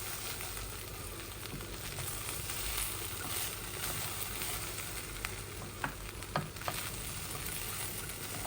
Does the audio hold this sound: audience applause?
no